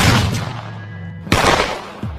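Gunshots ring out in a film scene, with a burst of sharp blasts at the start followed by a single loud crack and a fainter later shot, each leaving a short ringing tail.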